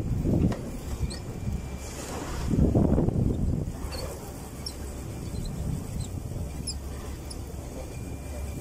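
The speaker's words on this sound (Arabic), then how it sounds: "الريح بدأ يغير والبحر شد علينا" Wind buffets a small fishing boat on a rough sea, with low rumbling gusts and surging water swelling and easing in uneven waves, close to the microphone and steady throughout.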